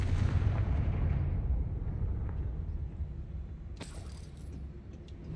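A Confringo fire-spell blast in the game Hogwarts Legacy: a heavy booming rumble that slowly fades, followed by a sharp crack partway through, with no talk.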